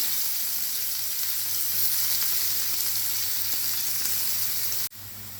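Loud, continuous sizzling of food frying in hot oil, a steady crackling hiss that dips briefly near the end.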